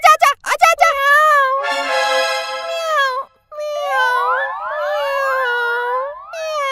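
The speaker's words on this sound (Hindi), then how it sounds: "अंकल ये बिल्ली कितनी अच्छी है।" A cartoonish cat meows in a short desi comedy sketch, several bright, rising and falling mews, loud and near, following a few quick clipped sounds at the start.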